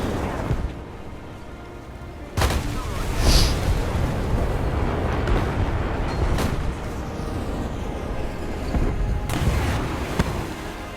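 An F-5C jet is shot during a video game air battle, with repeated booming impacts and gunfire bursts over a constant rumbling engine, the sharpest hits coming in several separate spikes.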